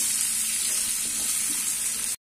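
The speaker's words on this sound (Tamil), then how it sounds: "இது 1 நிமிஷம் வதக்கி விட்டுடலாம்." Two medium cut raw green mango pieces sauté in a pan with a steady, close, hissing sizzle that runs unbroken, then stops abruptly into silence.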